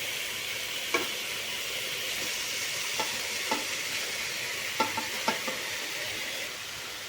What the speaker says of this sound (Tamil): சாதம் போட்டுட்டு கலரிக்கோங்க